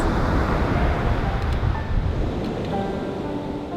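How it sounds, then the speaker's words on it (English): Continuous roar of ocean surf against the shore on the California coast at Point Reyes, with heavy wind buffeting the microphone, loud and close, with no distinct individual wave breaks. "listening to every lap of wave clash against the shore"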